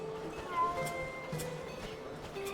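A small cat in Drakensang: The Dark Eye gives several soft meows, clear but not loud, over a low bed of game ambience.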